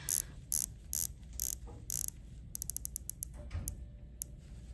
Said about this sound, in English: Rolex sets the standard for bezel action, sound, and overall tactile feel